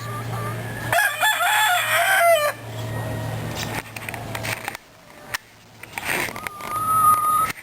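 Roosters crowing on a chicken farm in Lipa, several loud close crows with others overlapping and more distant, over a low mechanical hum and scattered clucking.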